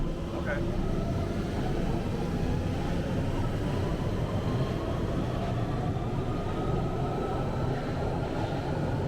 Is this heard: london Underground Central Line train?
yes